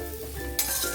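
Potatoes frying with spice masala in a pan, a brief close sizzle with a spoon scraping and stirring, getting a little louder partway through.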